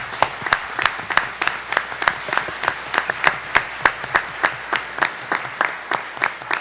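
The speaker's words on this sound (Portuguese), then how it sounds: "Vamos receber um aplauso." An audience at a family forum lecture claps in a steady, rhythmic unison beat, about three claps per second, moderately loud and unbroken for the whole stretch with no voices over it.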